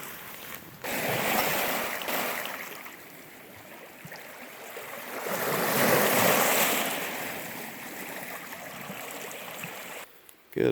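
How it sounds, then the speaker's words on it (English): Lake water lapping against the shore at night on a backcountry hike, a soft, steady washing that swells and recedes in gentle waves, with faint wind and no voices. "listening to the water."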